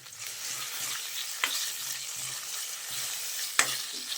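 Green chillies, curry leaves and chopped garlic frying in oil for a chicken pepper fry, a steady close sizzle with a couple of sharp stirring clinks and no voices.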